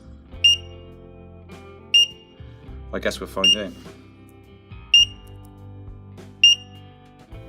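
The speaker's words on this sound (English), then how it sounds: "Beeping's quite annoying now." An electronic alarm on a Ninebot One S2 electric unicycle beeps sharply at regular intervals, four or five short high tones about every one and a half seconds, while someone speaks briefly midway.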